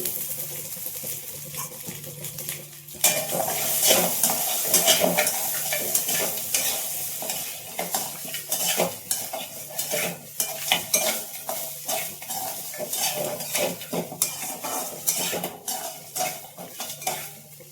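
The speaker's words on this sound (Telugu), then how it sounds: "అల్లం వెల్లుల్లి పేస్ట్ అయితే ఇది మటన్లో వేసుకొని వేయించుకోవాలి" Mutton pieces frying with freshly pounded ginger garlic paste, stirred steadily with a metal spoon against the pot, scraping and clinking over a constant sizzle, busier and louder after the first few seconds.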